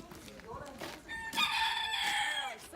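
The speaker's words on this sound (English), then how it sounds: "let's check out your chickens." A rooster crows loudly and close by, a long rising call following some soft clucking from nearby chickens.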